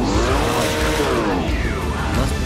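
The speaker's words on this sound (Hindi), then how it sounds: "मस्त पिकअप है, क्या आवाज़ है गाड़ी" Car engine revving with tyre squeal in Gangstar Vegas, a loud sustained roar with rising and falling pitch sweeps as the car accelerates and skids, close and continuous.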